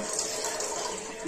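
Water poured for tea at home, measured out as three cups of water alongside milk, running in a steady, fairly quiet stream with no voices.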